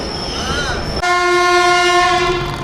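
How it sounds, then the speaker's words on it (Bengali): The Kulik Express 13054 pulls into Rampurhat station with a loud, close, sustained horn blast that cuts in sharply over the rumble of the arriving train. "আমাদের ট্রেন ঢুকছে কুলিক এক্সপ্রেস 13054। প্রায় আধ ঘন্টা লেট করে ঢুকছে ট্রেনটা।"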